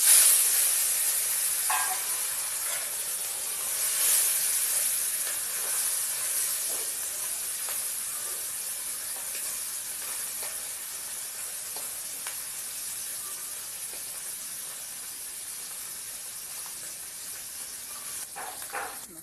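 Small fish being added to hot oil, giving a close, steady hiss and sizzle that stays fairly even and slowly settles over about nineteen seconds with a few faint crackles.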